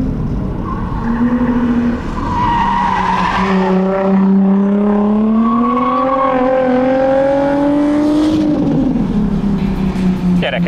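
A loud racing car engine revs, its pitch climbing steadily through a long pull before dropping off with a brief whooshing blow-off valve release near the end.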